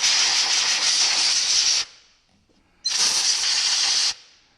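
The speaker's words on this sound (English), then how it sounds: "let me just blow all the crap off of there" Two loud bursts of compressed air from a compressor-fed blower clearing debris off a frozen Toyota Corolla brake caliper, each a close, harsh hiss about two seconds long with a short quiet gap between.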